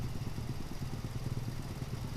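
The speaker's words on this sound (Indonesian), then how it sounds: "seru juga ya pakai motor 2 tak jadul." An old 1997 Honda NSR two-stroke motorcycle engine idles with a fast, uneven burbling pulse, close and steady throughout, with no voices.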